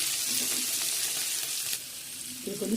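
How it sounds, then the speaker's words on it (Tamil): Onion hits hot ghee in a pan and a loud, close sizzle bursts out and holds, easing slightly after a couple of seconds, with a brief clatter near the end and no talk. "நெய் நல்லா சூடாகிடுச்சு. வெங்காயத்தை போடுவோம்."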